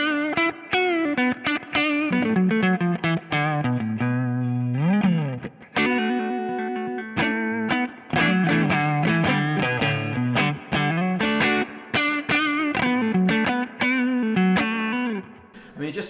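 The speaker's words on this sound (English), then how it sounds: "just sounds like a fat Strat. It sounds like a P90." Suhr JM Pro electric guitar with a fat Strat-like tone, played in a busy run of quick picked notes and bends with some effects coloring, steady and upfront, with no speech over it.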